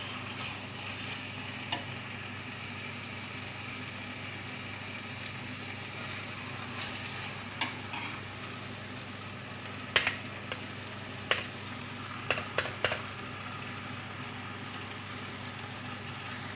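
Mushroom biryani masala sizzles steadily in a pan, a soft continuous frying hiss with occasional scrapes and clicks of stirring, close but fairly quiet.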